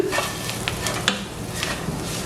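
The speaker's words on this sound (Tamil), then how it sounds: "ஒரு அஞ்சு நிமிஷம் கிளறி கிளறி வறுத்தெடுப்போம்" Sliced ash plantain fries in a hot pan as it is stirred, giving a steady close sizzle broken by occasional scraping knocks of the spoon against the pan.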